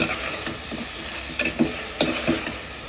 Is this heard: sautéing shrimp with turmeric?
yes